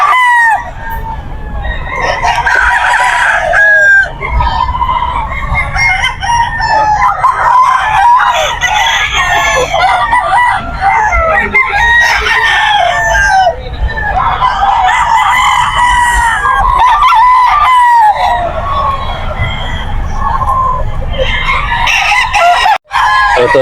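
Several Boston stag gamefowl roosters crow repeatedly and cluck at a busy pet market in Bocaue, overlapping loud calls filling the air with brief pauses between crows.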